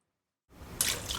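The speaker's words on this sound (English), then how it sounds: "So you add the two together and add 2 cups of water." Water poured into a cooking pot for Persian ghormeh sabzi starts after a brief silence, building into a splashing, trickling stream close by.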